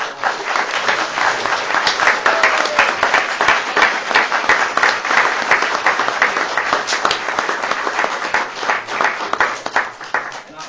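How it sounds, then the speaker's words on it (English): Indoor council meeting audience giving a round of applause, dense sustained clapping from many hands filling the room at steady loudness from start to finish, with a faint murmur of voices underneath. "Can we give our young men a round of applause?"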